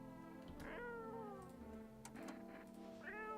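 A cat meows in the video game No, I'm Not Human, giving several drawn-out, wavering meows over a steady background hum, clear and fairly close.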